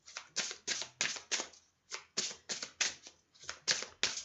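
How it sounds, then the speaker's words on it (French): Tarot cards being shuffled and drawn by hand, a series of about a dozen crisp riffling bursts in quick irregular rhythm, close and fairly soft, with no talking. "je vais tirer 2 cartes et il y aura 2 choix"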